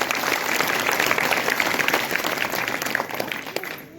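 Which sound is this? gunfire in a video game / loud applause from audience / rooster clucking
loud applause from audience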